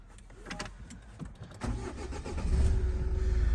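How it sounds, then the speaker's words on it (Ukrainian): A Renault Koleos 2.0 diesel 4x4 with manual gearbox is started: a few cranking clicks and stutters, then the engine catches and settles into a steady, close, rumbling idle. "Зараз заведемо автомобіль."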